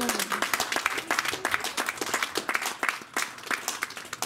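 Audience applauding in acclaim, a dense spread of hand claps from a moderate-sized crowd, lively and fairly close, with a voice briefly audible at the start.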